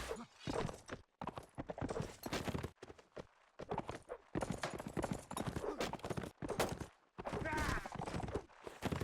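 Galloping horse hooves and neighing in a medieval combat video game battle, dense clip-clop bursts broken by short gaps, loud and close.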